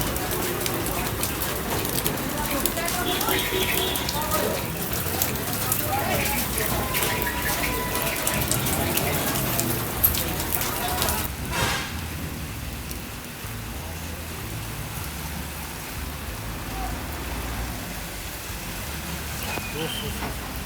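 Heavy rain falls in Dunga Gali, in the hills on the road from Abbottabad, as a dense, continuous hiss that is heavier for the first half and then eases slightly.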